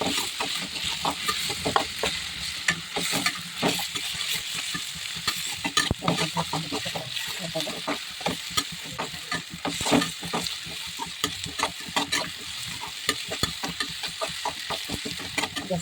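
Tomatoes sizzle and fry in a hot pan while a spoon stirs them, giving steady crackling with frequent scraping strokes throughout, close and continuous, with no talk.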